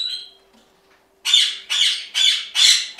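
Parrots at a breeding facility give four loud, harsh squawks in an even rhythm, close by, after a brief faint whistle and a quiet pause.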